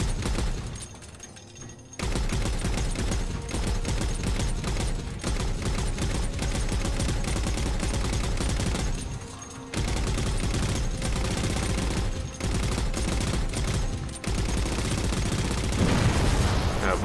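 Sustained gunfire in the shooter game Halo 4, dense and continuous near shots with brief pauses between long bursts, loud and steady throughout.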